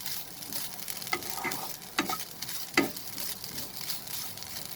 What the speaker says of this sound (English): Over a medium flame, roast the coconut.